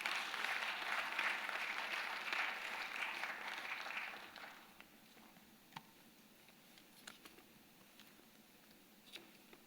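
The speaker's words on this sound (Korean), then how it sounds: "뜨겁게 우리 박수 한번 하겠습니다" A church congregation gives a warm round of applause during a Wednesday service, loud clapping for about four seconds that quickly fades to a few scattered claps in a quiet room.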